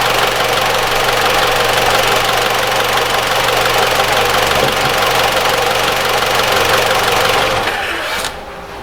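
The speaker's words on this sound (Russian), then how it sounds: "Это звук работы двигателя." A recorded 2013 Mitsubishi ASX 1.8 engine runs with an abnormal, harsh knocking noise after an oil change. The rough, steady running continues loudly for about eight seconds, then cuts off abruptly near the end.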